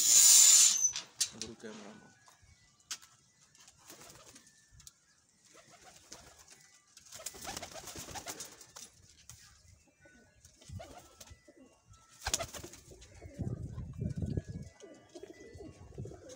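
A flock of about eleven colour-marked pigeons coos in low, soft bursts between quiet gaps, with occasional chirps, a sharp rustle near the start and voices talking nearby.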